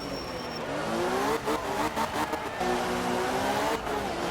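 An engine revs in a rally car racing game, climbing and falling in pitch as the car accelerates and shifts, a steady, fairly loud drone with brief scrabbling tire noise and no talking over it.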